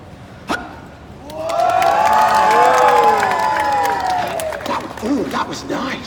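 An audience breaks into loud, sustained cheering and clapping with whoops and shouts, swelling quickly and fading after a few seconds, with a voice heard at the end.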